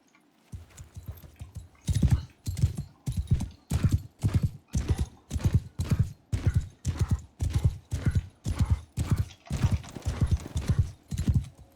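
Horse hooves pound in a steady galloping rhythm in the Mount & Blade II: Bannerlord video game, loud, close and continuous for the whole stretch, with a brief neigh near the start.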